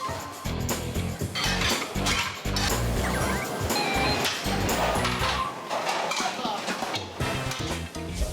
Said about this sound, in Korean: 제가 들고 들어가서 그냥 바로 제가 설거지 해버리고